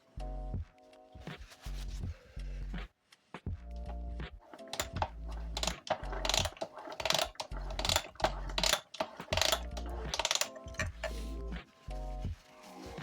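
Wiseco piston in a KTM 125 EXC (XC) cylinder being worked by hand during an engine rebuild, giving a repeated series of close metallic clicks, ratcheting and mechanical clunks in short bursts with brief pauses.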